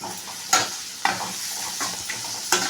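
Five dry red chillies and curry leaves stirred in sizzling oil in a pan, a steady fry hiss broken by three sharp spoon scrapes against the metal, close and with no voices.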